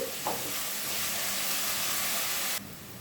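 Steady frying hiss from a pan of sliced green chillies with salt for egg fry, a continuous sizzle that drops in level near the end.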